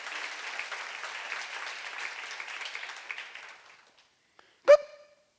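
A church seminar congregation claps in a steady, moderately close round of applause that gradually thins and dies away, followed after a short silence by a single sharp knock.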